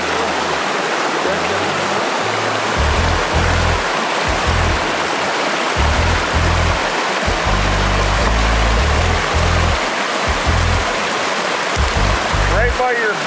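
A creek rushes loudly and steadily, a dense broadband wash near the listener, with low rumbling thumps mixed in around a sluice machine being set up.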